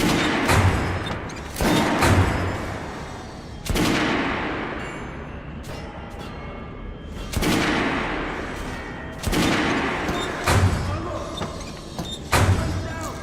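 Gunfire rings out at a shooting range in the video game Metro Last Light: several loud, sharp shots and bursts separated by short pauses, with clanking mechanical sounds between them.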